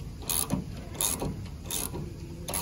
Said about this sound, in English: And just go ahead and cinch your bolt up.